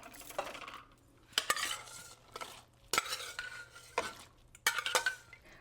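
A spoon scrapes and clinks against a metal pot in several separate rounds of stirring as tuver gravy is mixed with tamarind water, close and clear with quiet gaps between.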